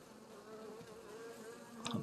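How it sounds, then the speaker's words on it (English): Honey bees buzzing around an open hive and its lid, a soft continuous drone close up with a brief louder buzz near the end. "So you guys can see quite a few bees here on the lid."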